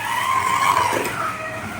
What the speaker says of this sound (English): And it does have that telltale angle winder whine to it.